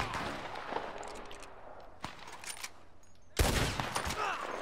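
Gunfire during a bandit hideout fight in the open-world western game Red Dead Redemption 2 Online, with a few faint distant shots followed by one loud close blast and its rumbling echo.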